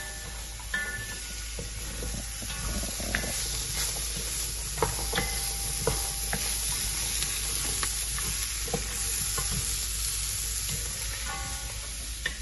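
Pumpkin frying in a pot for Caribbean curry shrimp, a continuous close sizzle and hiss with occasional stirring scrapes and clicks, no talking.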